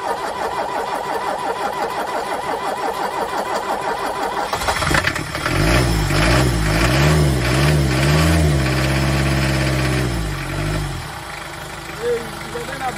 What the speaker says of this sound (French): ça fait entre 15 et 20 ans qu'il n'a pas tourné le camping-car et il démarre